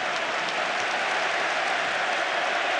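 A stadium crowd at a Chelsea versus Liverpool football match applauds footballer Diego Costa, a steady, dense wash of clapping heard at a moderate distance with no voices over it.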